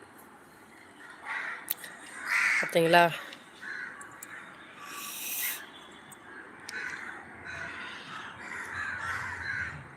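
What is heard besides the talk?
birds cawing at food put out for them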